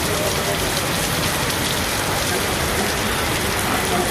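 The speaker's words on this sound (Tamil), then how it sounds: "கரூரில் நேற்றிரவு மிதமான மழை பெய்தது." Moderate rain falls steadily at night in Karur, a dense, even hiss of drops on surfaces holding at a constant level throughout, with no voices.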